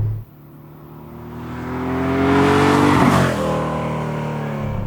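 Air-cooled Porsche 964 911 road build revving up from a low idle, with exhaust and intake rising to a loud howl and then easing slightly as it holds on the throttle, heard close.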